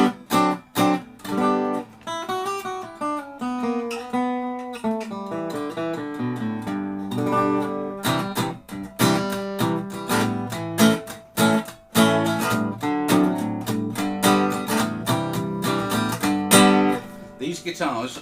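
A 1934 archtop guitar, refretted, with a body like a Gibson L5, is played solo up close as a melodic passage of plucked notes and chords with a steady rhythm.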